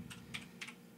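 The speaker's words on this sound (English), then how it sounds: "just typing gigantic gameplay" Typing on a computer keyboard, three quick separate key clicks, close and quiet, with no voices.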